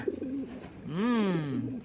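A racing pigeon gives a close, drawn-out rising and falling coo, preceded by softer shorter coos, with a voice faintly in the background.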